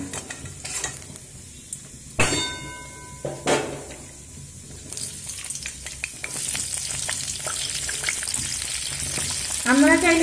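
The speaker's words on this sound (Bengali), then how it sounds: "সিমটা যখন ভাজবো তখন কিন্তু লো ফ্লেম করেই ভাজবো" Flat beans fry in a pan over a low flame, giving a steady sizzle broken by a few sharp clinks and stirring scrapes of a utensil, with no talking.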